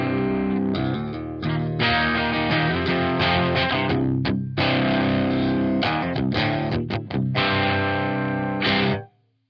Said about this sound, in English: this is the very boring and bland sound we have coming straight out of the Orange Dark Terror